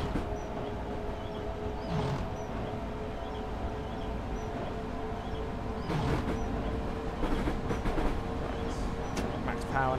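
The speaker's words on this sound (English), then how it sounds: "The sound of this train is one of the best sounds." A London Faversham high-speed train in Train Simulator 2022 gives a steady, loud engine drone with tonal hum, plus occasional higher squeals and clatter over the track.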